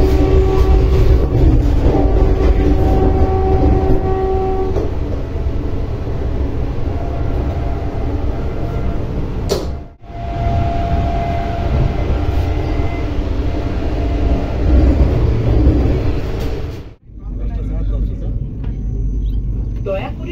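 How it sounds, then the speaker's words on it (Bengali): A Vande Bharat Express, the Howrah–Puri 22895 service, pulls into Jajpur station, heard from inside as a steady loud rumble and rolling rail noise throughout, with brief dips and a voice speaking over it. "337 কিমি পথ অতিক্রম করে ট্রেন ঢুকলো যাত্রাপথের ফোর্থ হল্ট জাজপুর"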